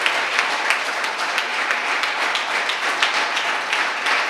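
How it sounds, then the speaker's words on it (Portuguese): A church congregation applauds during an evening deliverance service, steady crowd clapping filling the room with dense, continuous patter and small swells, no voices rising above it. "Você pode aplaudir o nome do Senhor, que muito fez por você essa noite."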